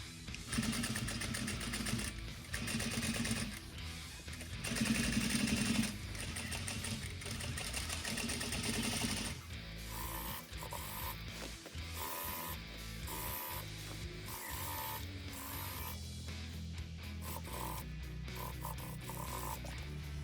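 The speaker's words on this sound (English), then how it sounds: "I'm just going to top stitch this down, and then it's ready for the skirt" A sewing machine top stitching the decking of a tailored bed skirt. It runs loud and steady throughout, with a denser stretch near the start, and no talking.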